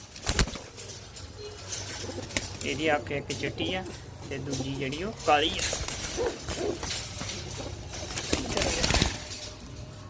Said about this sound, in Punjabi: 6 ਕਬੂਤਰੀਆਂ ਆਈਆਂ ਨੇ।